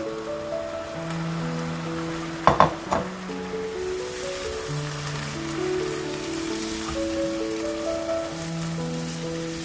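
Tomatoes dropped into a pan of fried beef for beef karahi, giving a steady close sizzle with a couple of brief clattering bumps early on and a faint background musical tone throughout.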